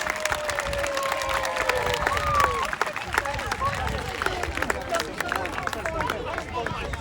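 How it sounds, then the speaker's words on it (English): An outdoor crowd at Arundel Castle applauds and cheers for the gunners, with busy, scattered clapping and chatter mixed with voices throughout. "Let's have a big round of applause for our courage gunners!"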